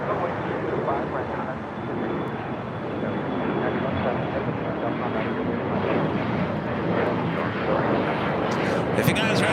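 An airliner takes off from runway 25 right at LAX, giving a sustained broad engine roar that holds steady and builds slightly over nearly ten seconds, with radio voices talking faintly over it.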